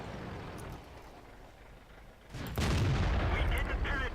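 A tank cannon fires in World of Tanks during a match with a VK 45.02 A: a sudden heavy boom breaks through quiet background rumble and is followed by a sustained loud roar and crackling echoes.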